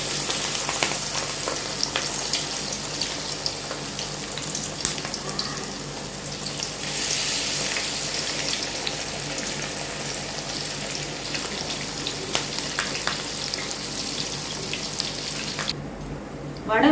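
Banana flower vada fry in hot oil, giving a continuous close sizzle and bubbling with small crackles throughout.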